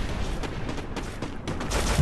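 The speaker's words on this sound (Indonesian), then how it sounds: "Wang Lin terkena tembakan cukup sakit, tapi masih bisa untuk direda." Gunfire in a video game during a grand final tournament match: a rapid series of sharp shots and bursts runs through the whole two seconds at moderate loudness, with no talk over it.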